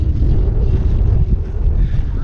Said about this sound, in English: I am now in an extremely windy place